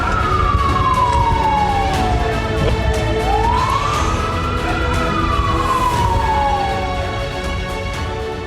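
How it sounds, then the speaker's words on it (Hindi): Loud wailing air raid warning sirens in Israel rise and fall slowly in long sweeping tones during a missile attack, sustained throughout with steady background rumble. "इजराइल में वॉर सायरन बजने"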